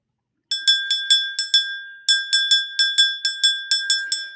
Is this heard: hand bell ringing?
yes